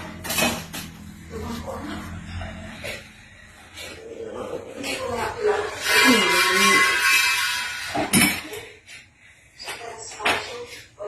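Pots, pans and cutlery clatter repeatedly as a large pile of dishes is washed by hand, with a burst of running water in the middle and people talking in between the clinks.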